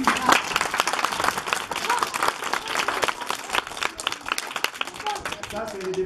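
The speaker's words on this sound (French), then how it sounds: "applaudissez quand même" Audience applause at a donation handover ceremony held by a Bamoun women's diaspora association in Nguon, a dense steady clapping from a crowd that stays loud throughout and thins slightly near the end.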